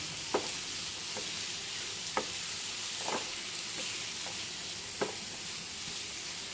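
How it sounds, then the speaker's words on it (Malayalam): Bitter gourd stir-fry sizzling steadily in a pan, with a few sharp spatula scrapes and taps at irregular intervals over the constant hiss, no voices. "ഒന്നിളക്കി യോജിപ്പിക്കാം"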